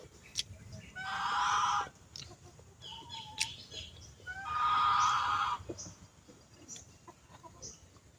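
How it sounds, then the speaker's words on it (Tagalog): Chickens cluck nearby on a rural farm, with two longer, loud squawking calls standing out among scattered softer clucks and rustling. "Tapos yung mga manok nangingitlog."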